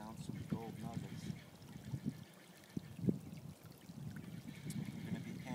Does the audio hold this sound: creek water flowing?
yes